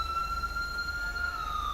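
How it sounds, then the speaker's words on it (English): Ambulance siren in a GTA 5 LSPDFR British police mod scene, a steady high wailing tone that holds throughout over a low engine rumble, moderately loud and unbroken with no talk. "There we go, there's our ambulance."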